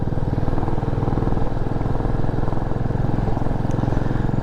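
A motorcycle engine runs steadily at close range, a low rhythmic rumble holding an even pace throughout.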